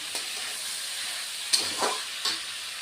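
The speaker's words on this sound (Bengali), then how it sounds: "এখন দুই মিনিটের মতো আলু আর বটবটিটা ভেজে নেব" Potatoes and yardlong beans fry in a pan with turmeric, giving a faint, soft sizzle with a few brief stirring scrapes and clinks against the pan.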